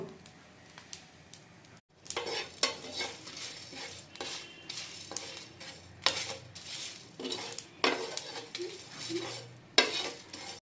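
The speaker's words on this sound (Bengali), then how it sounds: "আর দিয়ে নিচ্ছি এখানে 6টা শুকনো লঙ্কা। এখন এটা আমি সুন্দর করে ফ্রাই করে নিব।" Whole cumin seeds and six dried red chillies fry in a pan with a light sizzle, broken by repeated clinks and scrapes of a spoon stirring against the metal, close and fairly quiet.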